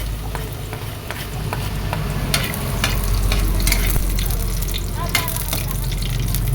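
Garlic fries in hot oil in a cooking pot, giving a loud, steady sizzle with scraping stirs and occasional spatters, holding at an even level with no voice over it.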